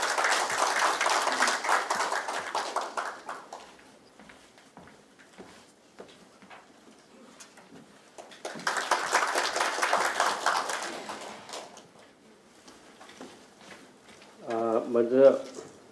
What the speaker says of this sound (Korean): 모두 박수로 맞이하여 주시면 감사하겠습니다.